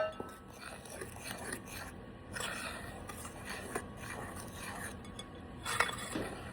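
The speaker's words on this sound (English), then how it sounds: "I'm going to incorporate the egg and milk mixture into the flour mixture now" A utensil stirs egg and milk mixture into a flour mixture for shortcake biscuits, giving quiet scraping and soft clinks against a bowl in an irregular rhythm, faint and close.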